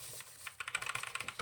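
Typing on an HP GK400 metal keyboard with brown mechanical switches: a quick run of about a dozen crisp key clicks, close and fairly quiet, starting after a short pause.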